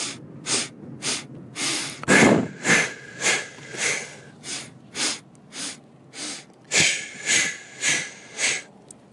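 Rhythmic, forceful breaths through the nose, in a steady series of about a dozen sharp snorting exhales and sniffs, during a challenging stress-relief breathing exercise done while bouncing at a constant pace; no talking.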